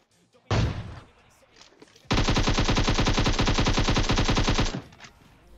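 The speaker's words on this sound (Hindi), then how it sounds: "मैं निकालता हूं और बर्बाद करता हूं एक आध ए डब्ल्यू एम की गोली" AKM and AWM gunfire in the PUBG battle royale game: one loud shot near the start, then a sustained rapid automatic burst lasting a few seconds, close and dominant.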